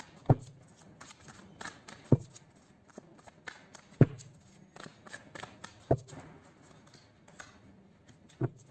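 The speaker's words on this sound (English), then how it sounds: "let's pull some cards from universe where this connection is headed on and the outcome" Tarot cards shuffled and pulled during a reading: soft papery rustling with sharp card snaps or taps about every two seconds, close and moderately quiet, with no talking.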